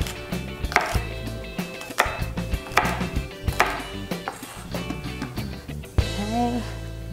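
A knife chopping a vegetable stalk into small bite-sized pieces for faux fried rice, repeated sharp cuts against a cutting board in an irregular rhythm, close and fairly loud, ending with a brief scrape.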